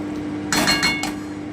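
A spoon clinks and scrapes against a pan while ghee is stirred into vegetarian daliya khichuri, giving a few quick metallic knocks over a steady low background hum.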